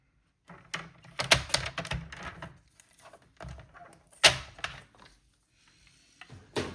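Paper card trimmed to size on a paper trimmer, a series of close, dry cutting and sliding strokes in short bursts separated by pauses, with a sharp snap near the end.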